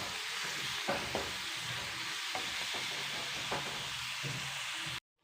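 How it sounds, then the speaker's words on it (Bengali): Onions and green chillies frying in oil for a potato korma curry, a steady broadband sizzle with occasional sharp stirring scrapes and clinks, continuous and close until it cuts off just before the end. "কাঁচা লঙ্কাগুলো দিয়ে দিচ্ছি, দিয়ে পেঁয়াজ ভালো করে ভেজে নেবো"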